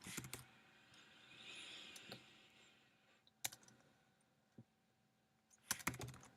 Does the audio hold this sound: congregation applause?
no